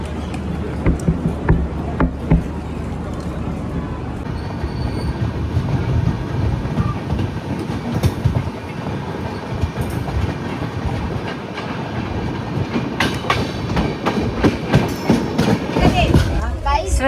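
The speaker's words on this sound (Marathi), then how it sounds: "Pathankot railway station" A train rumbles and clatters steadily on the tracks at Pathankot railway station, with a loud continuous roar and rhythmic clacking, and faint voices mixed into the noise.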